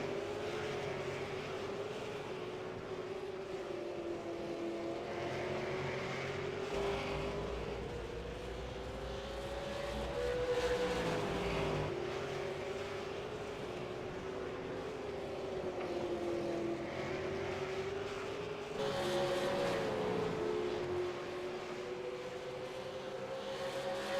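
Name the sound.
V8 Supercar race cars racing in iRacing video game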